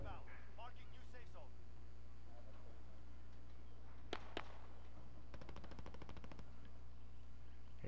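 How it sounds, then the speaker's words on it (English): Gunfire in a multiplayer shooter video game: a couple of single shots, then a rapid automatic burst lasting about a second, over a steady background hum with faint voices. "people are shooting."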